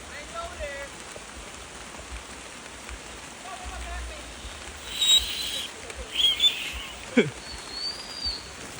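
Light rain pattering softly and steadily on bush land in Annotto Bay, Jamaica, with a few faint bird chirps and brief rustling sounds near the end.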